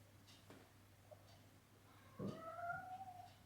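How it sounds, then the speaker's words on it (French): A cat leaving its litter box lets out a short, drawn-out meow, quiet and close in an otherwise still indoor room with a faint steady hum, preceded by light scratching and rustling. "C'est mon chat qui sort de la caisse qui fait du bruit."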